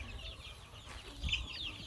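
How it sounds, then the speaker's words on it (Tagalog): Chickens cluck softly in the background over a steady low hum, with a brief louder cluck partway through. "So dito nakalagay yung mga manok ko."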